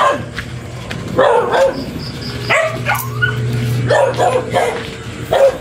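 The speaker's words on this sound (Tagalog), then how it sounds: "Parang ingay ng aso." A dog barks and yips repeatedly up close, short excited bursts with whimpering tones over a steady low hum.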